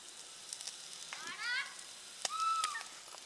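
Sardines fry with ginger and garlic in a pan, Kerala style, giving a steady soft hiss and crackle, with brief voice-like sounds rising above the sizzle.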